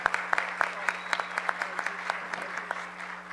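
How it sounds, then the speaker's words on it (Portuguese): An audience at an anniversary ceremony gives a round of applause: a moderate, scattered clapping with distinct claps over a low electrical hum and murmured voices. "Gostaria que vocês dessem uma salva de palmas à Emily"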